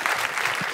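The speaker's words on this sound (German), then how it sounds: "Und damit Applaus für den Gewinner dieses Spiels" A studio audience at a German comedy game show applauds, a brief, dense burst of clapping that stays steady and fairly loud for the whole moment.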